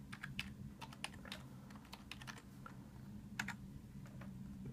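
Soft, rapid keystrokes on a computer keyboard, typed in quick irregular bursts with short pauses over a faint low hum. No voices.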